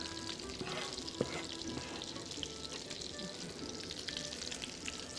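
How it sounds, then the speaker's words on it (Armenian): Onions sizzle in a frying pan with a steady, close, fairly quiet crackling hiss and a few faint clinks, with no talking. "Սոխը լցնում ենք տապակի մեջ։"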